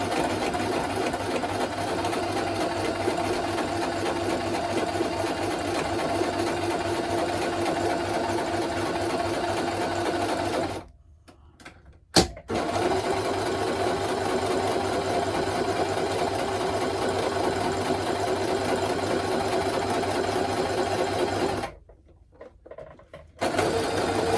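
A sewing machine stitches fabric for a handmade teddy bear, running in long steady buzzing bursts with two brief pauses and a click between them, close and without talk.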